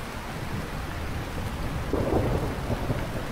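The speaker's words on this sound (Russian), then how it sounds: "И дождь пошел." Steady rain hisses throughout in the video game Lightyear Frontier while a low thunder rumble swells in the middle and lingers, with no voices present.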